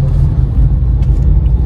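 A Tata Tigor CNG car drives through city traffic, heard from inside as a steady, loud low engine and road rumble with no talk.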